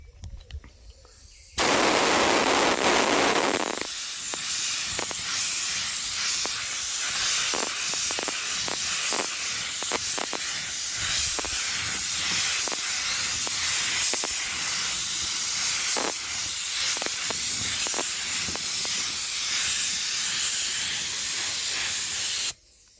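A spray gun applying base coat paint thinned with thinners onto a car part, a loud continuous hiss after a brief quiet start, punctuated by short sharp spurts.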